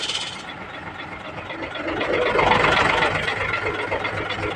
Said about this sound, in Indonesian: Sekarang saya gas dulu biar ngisi.